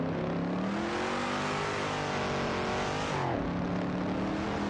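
Race cars in an AI racing video game, a dense continuous engine whine layered from several cars, revving with pitch sweeps and a brief drop as one shifts, steady and loud with no talk.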